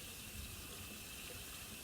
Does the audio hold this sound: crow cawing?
no